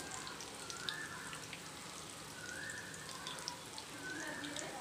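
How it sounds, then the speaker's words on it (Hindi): Chicken frying in a pan over a medium flame, a quiet steady sizzle with soft crackles, faint tonal chirps recurring in the background, no voices. "अब इसको सेकने देंगे मीडियम फ्लेम पे फिर इसको एक बार पलटी करेंगे"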